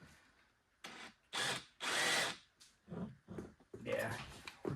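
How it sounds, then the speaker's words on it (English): A power drill bores a pilot hole in a Yamaha Phazer snowmobile in short, loud bursts of whirring separated by pauses, heard close up with no talk between them. "I'm gonna get a different drill bit and we'll drill a pilot hole"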